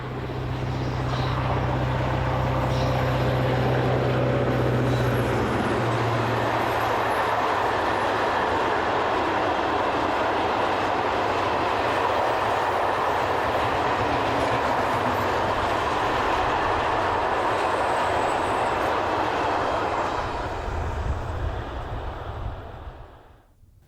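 Diesel locomotive 319335 hauling an empty stone train bound for Malaga passes close by, a loud sustained engine drone and rolling wagon rumble with a low horn-like tone early on, fading away at the end.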